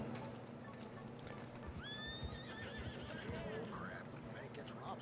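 A horse whinnies with a high, wavering neigh amid clip-clopping hooves and a busy background, with some talking underneath, in the video game Red Dead Redemption 2.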